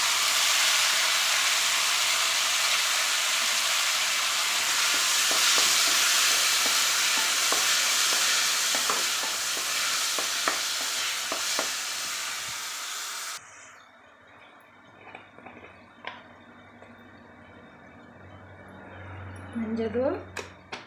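Tomatoes frying in a pan with softened onion and garlic for a Tamil tomato thokku, a steady loud sizzle with stirring scrapes for about thirteen seconds, then quieter crackling with occasional clinks.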